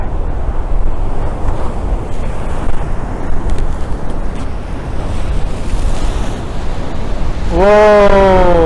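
Storm waves crash and surge on the Crimean shore, a loud, continuous roar of surf with wind buffeting the microphone, and a voice calls out briefly near the end.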